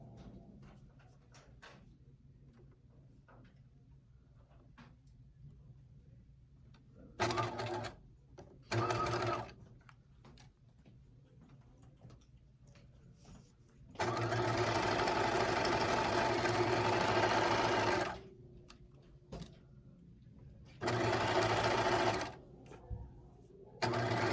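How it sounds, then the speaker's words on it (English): A sewing machine runs a 3/8 seam on a fleece pullover in several bursts: two short runs, a long steady stretch of rapid stitching, then another short run, with quiet pauses between and faint room hum. "I'm only going to stitch my 3/8 on that seam."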